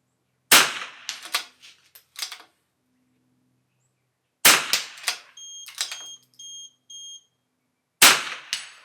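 .22 rifle shots ring out at an NRL22 match in three separate groups of sharp, cracking reports, each with a few quick follow-up pops and ringing steel target hits. There is a faint beeping tone between volleys.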